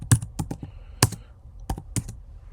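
Keys on a computer keyboard clack in an irregular run of sharp taps while code is typed, some strokes louder than others, close and clear with no talking.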